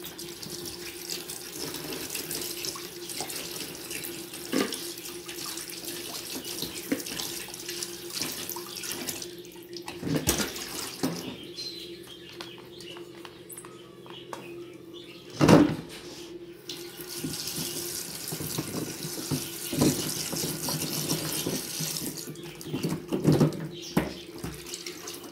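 Tap water runs steadily from a kitchen faucet into a sink while vegetables such as chayote are rinsed before peeling for pickled preserves, with a few brief clatters and handling knocks along the way.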